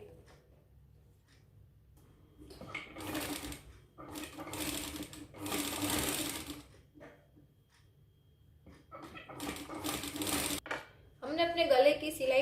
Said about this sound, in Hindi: हम ऐसे इसकी गले की ओर स्टिचिंग करेंगे और नीचे भी हम स्टिचिंग करेंगे